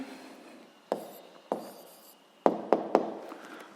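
Pen writing an answer on paper in a physics lesson: a soft continuous scratching stroke with several sharper taps and strokes, close and quiet, no talk.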